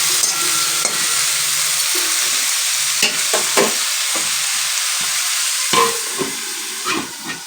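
Egg omelette curry stirred in a kadai: a steady broad frying sizzle runs throughout, with scattered scraping and knocking strokes of the spoon against the pan, fairly close and with no voices.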